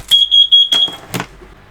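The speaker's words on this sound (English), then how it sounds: "That was my miniature smoke alarm saying move to fresh air." A miniature smoke alarm sounds a string of about five shrill, close beeps that run into one steady high tone, followed by faint workbench handling noises, with no one talking.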